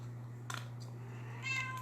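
A mother cat meows to call her kittens: two soft, short meows about a second apart, faint over a steady low electrical hum, with no talking.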